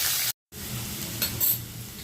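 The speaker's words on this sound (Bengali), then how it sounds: "কড়াই তেল গরম করে জিরে ফোড়ন দিয়ে দিচ্ছি, এরপর দিয়ে দিচ্ছি কোচানো পেঁয়াজ" Chopped onion goes into hot oil with cumin seeds in a wok, and after a brief silence a steady close sizzle with faint stirring runs on alone.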